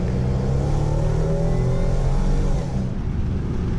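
A supercharged car engine held at roughly three-quarter throttle roars close and loud, its pitch climbing steadily before easing off near the end, with no talk over it.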